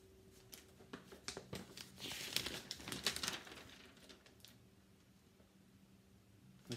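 Sheets of real newspaper handled and crinkled, a burst of rustling and crackling close up, loudest in the middle then fading to quieter, sparse rustles.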